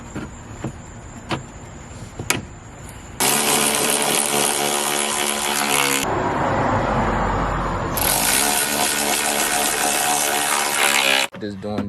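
A HART 20-volt cordless 3/8-inch ratchet tightens a screw, two loud bursts of high motor whine with a rattling mechanism, separated by a short pause, near and close after a few quieter clicks.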